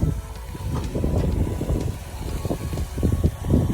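Wind blowing at a dock, a steady, close rumbling buffet with gusting swells that fills the low end throughout, no other clear sounds on top.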